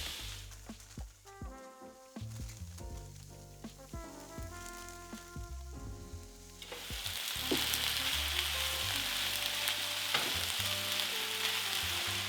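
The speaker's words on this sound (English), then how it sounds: "Now I'm going to add about 3 cups of fresh spinach." Fresh spinach, about three cups, drops into a hot skillet, and a loud steady sizzle rises and holds, following a stretch of quieter tonal kitchen sounds.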